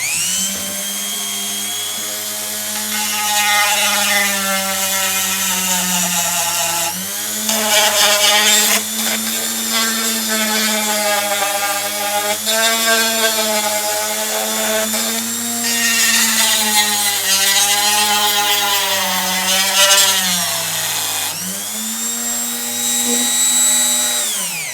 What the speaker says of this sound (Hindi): तो मैं इसके साथ ये सैंडिंग व्हील यूज़ करूँगा